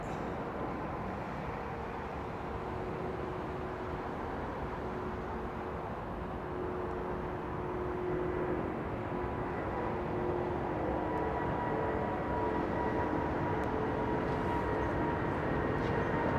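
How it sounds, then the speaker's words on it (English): A Finnair airliner takes off at London Heathrow, its broad engine roar heard at a distance as a steady, slowly swelling rumble that grows a little louder toward the end, with no voices. "Finnair going up very early"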